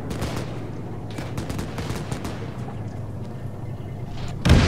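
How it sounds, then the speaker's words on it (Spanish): Continuous rapid machine gun fire in a video game rattles on in bursts at middle distance, ending with a louder, closer blast. "Escucho disparos en la siguiente sección. MG en la carretera por la izquierda."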